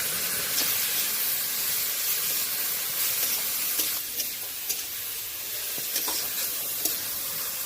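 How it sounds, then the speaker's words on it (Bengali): Grated coconut frying in oil with a pinch of salt gives a steady, close sizzle and hiss throughout, broken by occasional soft clicks and scrapes from stirring, with no one talking. "এবার নারকেলটা দিয়ে এবার ভালো করে ভেজে নিলাম।"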